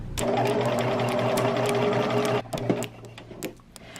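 A sewing machine stitching an X across a market bag strap runs in a fast, even buzzing whir for over two seconds, then stops, leaving quieter handling clicks, close by with no talking.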